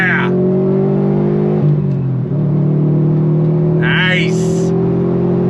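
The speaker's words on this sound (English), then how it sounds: "Second gear. On throttle, here we go." Engine drone from a 2018 Subaru WRX STI Type RA fitted with an AWE exhaust, accelerating in second gear; its pitch dips and then holds steady and loud from inside the cabin, broken by short bursts of other noise.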